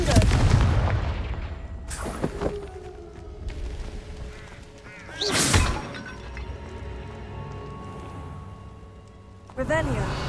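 Confringo fire-blast spells cast in Hogwarts Legacy at a goblin camp: three sharp, booming bursts a few seconds apart, each with a crackling tail, over quieter game ambience.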